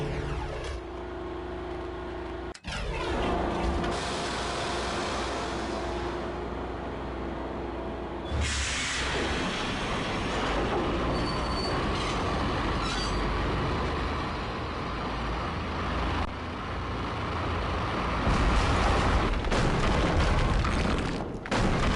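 A continuous rumbling train roar with hissing in the video game Max Payne, interrupted by a sudden break and a heavy boom, then steady rolling noise to the end.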